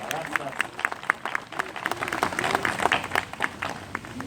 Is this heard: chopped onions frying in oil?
no